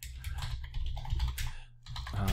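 Rapid, close keystrokes clatter on a computer keyboard while a comment is typed into a report card grading screen, steady and quiet with a brief pause near the end.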